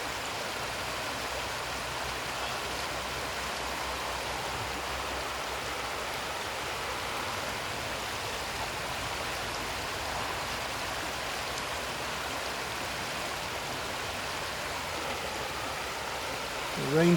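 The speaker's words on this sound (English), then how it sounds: "The rain's coming down now." Steady rain pours outdoors among pine trees near a bridge in Scotland or the Lake District, a dense, even hiss of drops with no breaks across the whole stretch.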